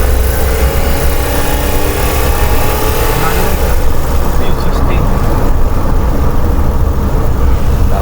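A Suzuki Every wagon engine revving at high RPM, a loud continuous droning whine with shifting tones, close by and steady throughout, with people talking over it.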